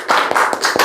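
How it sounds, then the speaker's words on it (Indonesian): A classroom group gives a quick round of claps for a student team, a few sharp, close hand claps within a second. "tepuk tangan untuk kelompok 3"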